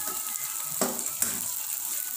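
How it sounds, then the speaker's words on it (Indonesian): Shrimp paste frying and being broken up in a wok, a steady soft sizzle with two brief scraping clicks of a utensil against the pan, close and moderately quiet, no talking. "ini kita pecahkan aja dalam kuali sambil kita goreng"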